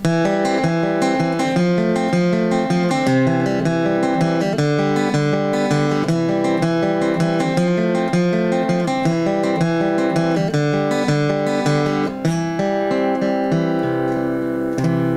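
Steady acoustic guitar crosspicking, one pattern series per chord, a continuous rolling pattern of plucked notes moving through the chord changes of Bile Them Cabbage Down, clear and close.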